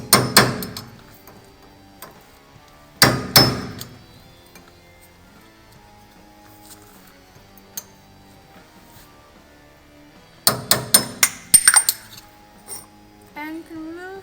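A hammer strikes a chisel-tip screwdriver to knock the cap off a wheel hub, sharp metallic knocks in quick bursts at the start, around three seconds, and again near the end, with long quiet handling noise between.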